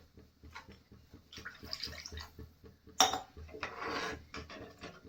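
Water is poured into a pot of sev bhaji, a Marathi village-style curry, giving faint splashing and pouring noise with small clinks of the vessel. It is quiet and close, and it swells in the second half.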